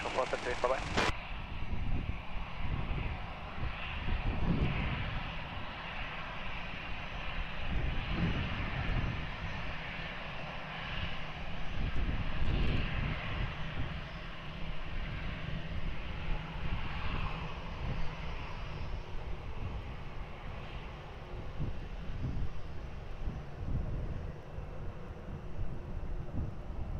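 A jet airliner powers up for takeoff on runway 20 at Lisbon Airport, its broad engine roar steady and loud across the whole stretch, with a fluttering rumble underneath and brief bumps of noise along the way.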